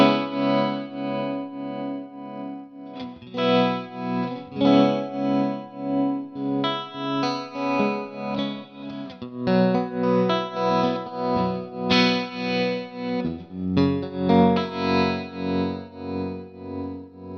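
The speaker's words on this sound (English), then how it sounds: "So as you can hear, as opposed to the intro, that is a softer tremolo." Clean electric guitar chords run through an Empress Tremolo 2 pedal set to a soft tap-tempo tremolo, strummed in a steady rhythm with a gentle pulsing swell in volume, sounding close and alone without any talking.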